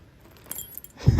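A set of car keys for a 1975 Lincoln Continental jangles briefly and close by, a light metallic shake that ends in a louder clinking burst.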